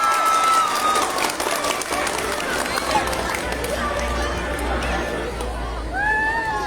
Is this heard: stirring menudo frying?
no